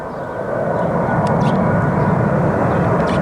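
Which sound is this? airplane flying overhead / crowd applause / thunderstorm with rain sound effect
airplane flying overhead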